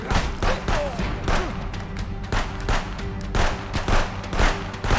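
Gunfire crackles in a border-patrol shootout against gang members in the video game Contraband Police, with dense rapid shots and thumping impacts running continuously and loudly throughout, with no break in the firing.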